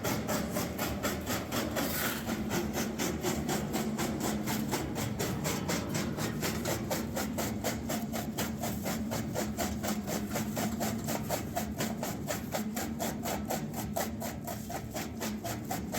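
A hammer mill crushes dry rock ore into sacks at a small-scale mercury-free mining site in West Africa. It gives a loud, continuous grinding rattle with rapid regular pulsing that runs unbroken and close throughout.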